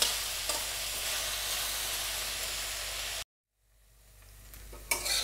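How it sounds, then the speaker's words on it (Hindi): Okra (bhindi) frying slowly over a low flame, a dense even sizzle that cuts out abruptly, then returns faintly with a small knock, no voices. "ये भिंडी को सबसे पहले इसमें फ्राई करेंगे"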